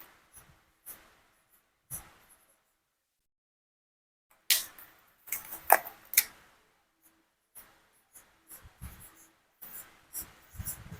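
A pen writing numbers for a sixth-grade math exercise, quiet scattered scratches and taps with short pauses, a denser burst of strokes midway, close and alone.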